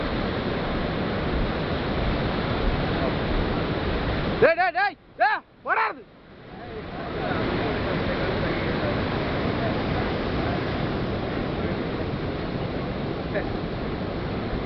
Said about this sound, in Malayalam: തിരമാലകൾ ജെട്ടിയിലേക്ക് ഇരച്ചു കയറുകയാണ്.